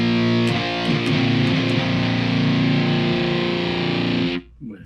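Heavily distorted guitar through the Pitt Street Custom 1 tone on BIAS Amp, played on a Yamaha EZ-EG MIDI guitar: a thick, sustained, buzzing chord with a few picked accents, loud and steady before cutting off abruptly.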